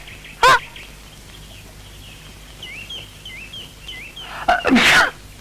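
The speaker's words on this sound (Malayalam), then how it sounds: "എന്തൊരു തുമ്മക്ക" Two loud, sharp sneezes burst out close by, one near the start and another near the end, with faint bird chirps in the quiet stretch between them.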